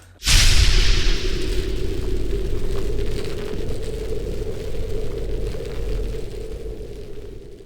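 A sniper rifle fires in the shooter game Infestation: one sudden heavy blast, followed by a long, loud roaring rumble that slowly fades.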